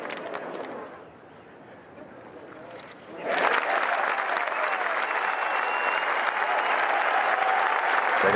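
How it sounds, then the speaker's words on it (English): Golf patrons at the Masters cheer and applaud for a player, starting with a low crowd murmur, then a loud, sustained roar of clapping and cheers that holds steady across the gallery. "The patrons cheering Luke."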